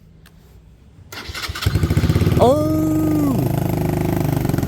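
Motorcycle engine cranking and catching, rising from quiet into a loud, rough running roar with a pitch sweep, while a voice exclaims over it; the bike is fitted with an unusual baffle.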